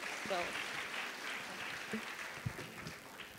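An audience at a women's health and wellness panel event applauds, a steady wash of clapping from many hands mixed with a speaking voice over it.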